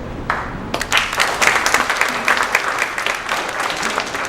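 Audience applause breaks out after a candidate's speech at a state representative candidate forum in Brookline, a brief quiet gap giving way to sustained, fairly loud clapping from a crowd.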